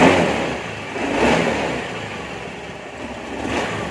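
An automatic scooter engine, running during a fuel pump test, revs up in smooth swells over a steady idle, loud and close with no talking.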